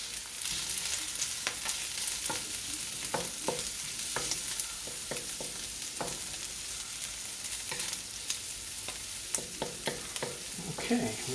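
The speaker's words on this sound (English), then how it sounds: "And get them nicely fried up." Turmeric fried rice with ham and onions frying in a pan, a steady close sizzle with scattered clicks and scrapes from stirring and folding, no voices.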